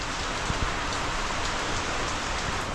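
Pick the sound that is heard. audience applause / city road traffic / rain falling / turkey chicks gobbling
rain falling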